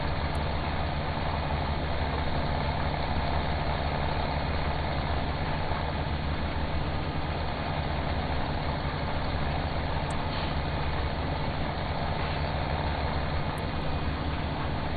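A tractor pulling a sowing machine in Farming Simulator 17 drones steadily throughout, a constant loud engine hum with a low rumble and no pauses or changes in pitch.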